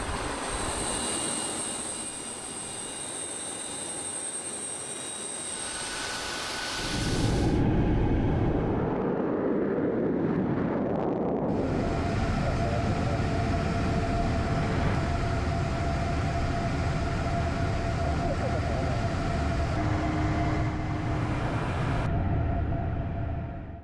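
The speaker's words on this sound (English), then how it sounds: "He's in a Russian Tu-160M bomber." Russian Tu-160M nuclear-capable bomber in flight, heard from the cockpit: a loud, constant engine roar with shifting rumble and hiss partway through, with no voices.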